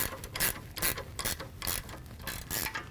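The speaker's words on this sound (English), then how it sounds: "So it's best to actually use a ratcheting wrench if you've got one. And again, they're 9/16. So I'll go ahead and tighten this one up." A ratcheting wrench tightens a 9/16 bolt while a Tilmor Power Ox is assembled, giving about six quick bursts of bright clicking in a steady rhythm, close and clear with no talking.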